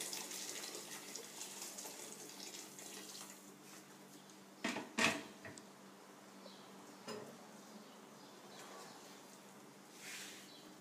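About 1.5 liters of hot water is poured into a cooking pot for Greek beef youvetsi, making a soft, steady splashing trickle that stays faint and close, with a couple of brief louder splashes partway through.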